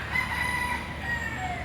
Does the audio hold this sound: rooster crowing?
yes